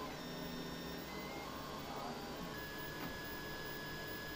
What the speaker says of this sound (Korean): 여러 대의 3D 프린터가 쉴 새 없이 움직이고 있는데요.